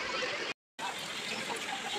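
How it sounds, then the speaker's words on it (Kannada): Water flows and gushes steadily at a roadside stop on a road trip, a dense, continuous rush broken by a brief silent gap, with no talk over it. "ನೀರು ಸೌಂಡ್ ಅಂತೂ ಸಕ್ಕತ್ತಾಗಿ ಕೇಳಿಸ್ತೈತೆ."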